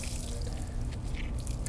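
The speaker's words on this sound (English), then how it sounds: "I'll put my wash mitt on the side and just wring it out." Water trickling and dripping steadily from a wrung-out car wash mitt into a bucket, a continuous close wet patter with no talking.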